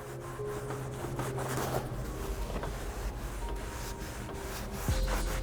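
Continuous rubbing and wiping on an old Nissan 240sx dashboard with degreaser, a steady close scrubbing texture with a low background hum and no talk.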